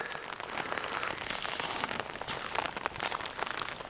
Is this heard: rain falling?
yes